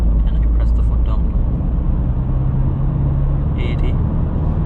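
A remapped Vauxhall Astra J engine, 166 bhp, hums loud and close from inside the cabin at full throttle, a steady low drone with road noise as it speeds up from 60.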